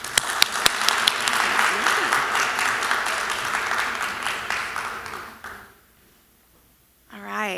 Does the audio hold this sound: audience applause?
yes